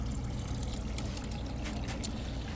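Water circulates through a VEVOR hydroponics growing system, pumped up from a bottom suction and draining back: a steady, low trickling and pouring wash, close and continuous, with faint gurgles.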